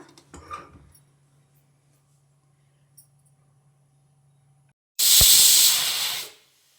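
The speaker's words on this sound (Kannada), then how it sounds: "ಒಂದು ವಿಷಲ್ ಕೂಗಿದೆ ಇನ್ನೊಂದು ವಿಷಲ್ ಕೂಗಲಿ" Pressure cooker whistle blowing while cooking milk and carrots for carrot halwa, a single loud close hissing blast of steam lasting about a second and a half after a quiet kitchen.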